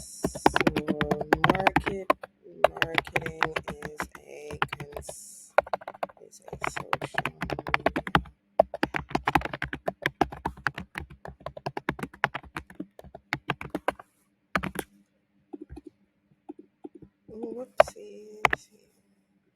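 Computer keyboard typing in bursts of rapid, close keystrokes while someone talks over much of it, with quieter gaps and a few isolated taps near the end.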